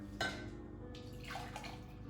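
Vinegar pickling liquid is poured into a container in a home kitchen, making a faint, continuous liquid splash and trickle with a brief clink near the start, and no talk.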